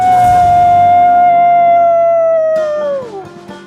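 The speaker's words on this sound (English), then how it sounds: "I love the howl to me" A single long, loud howl, likely from a dog or wolf, holds a steady pitch for nearly three seconds, then slides downward and trails off.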